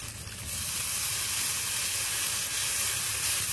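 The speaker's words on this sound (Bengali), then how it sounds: "এবার দিয়ে দেবো জিরে বাটা, শুকনো লঙ্কা বাটা, মশলা ধোয়া জল দিয়ে দেব।" Ground cumin paste, dried red chili paste and spice-rinse water hitting a hot pan, giving a steady, loud steaming hiss and sizzle that rises after a brief quieter start and holds evenly throughout, with no voices.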